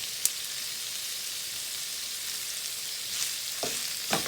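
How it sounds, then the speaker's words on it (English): Pork and beans with bacon and onions fry in a pan, a soft continuous sizzle with a few brief clicks and stirring scrapes near the end. "I just prefer to just kind of fry it like it is"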